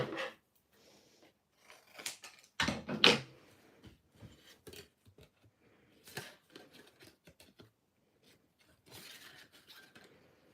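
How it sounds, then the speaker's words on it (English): Scissors snip a small paper sail for a handmade card, a few quiet, sparse cuts and rustles, with one louder paper crunch near the start. "I'm going to have to cut that little bit, I think."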